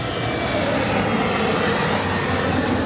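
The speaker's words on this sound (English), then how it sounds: "it's a cool little Embraer jet" Steady broadband roar of an American Eagle Embraer E-jet passing near an airport, loud and continuous throughout with no break.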